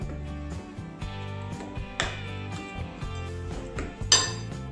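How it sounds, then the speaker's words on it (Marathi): Bun dosa batter is mixed in a bowl with a metal spoon, making repeated ringing clinks and scrapes against the rim in an uneven rhythm, close and fairly clear, with one sharper knock near the end. "आता हे सर्व एकत्र मिक्स करून घ्यायचे"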